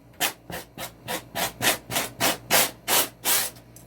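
Sandpaper rubbed over a styrofoam sculpture of a giant popsicle in about a dozen even back-and-forth strokes, a close, rhythmic scratchy swish with no talk.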